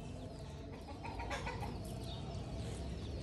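A white hen clucks repeatedly at moderate distance, with other farm-bird calls in the busy outdoor background and no talking.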